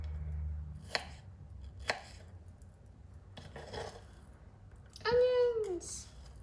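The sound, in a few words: chopping onions with a knife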